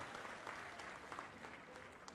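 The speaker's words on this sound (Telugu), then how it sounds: "ఆయన గట్టిగా చప్పట్లు కొట్టి అభినందించాలి" Audience applause at a government scheme launch for fishermen in Srikakulam district's Etcherla constituency: a faint, steady patter of many hands clapping continuously throughout, heard from a distance.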